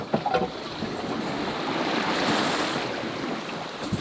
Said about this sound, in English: We've been sailing nicely for the last, I think, about hour and a half.